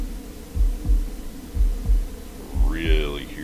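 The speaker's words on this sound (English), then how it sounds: "Really hear the heartbeat thing." A game heartbeat from Bermuda Lost Survivor, an early-access island survival game, thumps in steady paired pulses, loud and close, before a rising tonal sound enters near the end.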